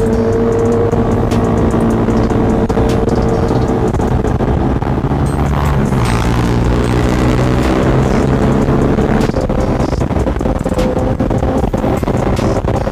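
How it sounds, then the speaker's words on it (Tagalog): Loud, steady big-bike motorcycle engine roar from a group ride, with rising and falling revs, heavy wind rumble over the top throughout. "masarap ng tunog ng motor nila"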